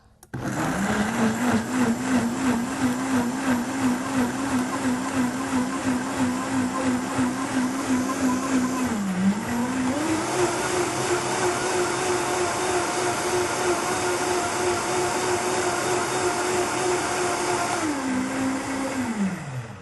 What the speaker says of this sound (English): Just love the Vitamix. We blended that about, what, 30 seconds